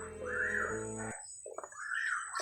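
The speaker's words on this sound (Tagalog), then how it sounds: "May uwak dumaan oh." A crow caws twice, harsh and fairly close, each call a strained rising-falling croak with a short gap of quiet between.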